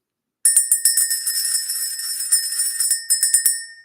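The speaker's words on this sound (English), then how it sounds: "Let's ring the bell." A bright, high bell rings alone in quick repeated strikes, a clear metallic tinkling chain that starts suddenly after silence, pauses briefly near the end, then resumes and rings out.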